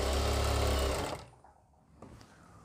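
A sewing machine stitches fabric for elastic-waist pants in a loud, steady whirring run that stops abruptly about a second in, leaving near silence with a few faint clicks.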